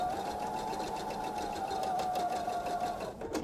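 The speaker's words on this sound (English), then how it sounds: "When you've got a piece that's so skinny, it can shift as you're sewing" A sewing machine runs steadily while stitching a narrow strip of fabric for a bench pillow, a continuous close whir with a sustained hum that holds even throughout before easing off at the very end.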